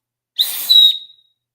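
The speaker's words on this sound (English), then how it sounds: "a whistle will carry a lot farther than your voice" A single loud, shrill whistle blast, held for under a second before cutting off, with nothing else around it.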